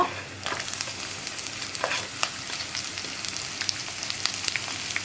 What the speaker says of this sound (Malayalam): കറിവേപ്പിലയൊക്കെ നന്നായിട്ട് കുക്കായി വരുന്നത് വരെ ഇളക്കി കൊടുക്കുക